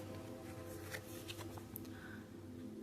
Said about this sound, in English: I was guided to first grab my Divine Masters deck, and I started shuffling them